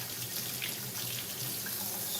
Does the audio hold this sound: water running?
yes